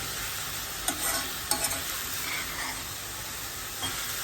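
Mango pieces for sakharamba sauté in ghee with cloves in a pan, giving a continuous sizzle and hiss. A few sharp scrapes and clinks come from a spoon stirring, all close and without talk.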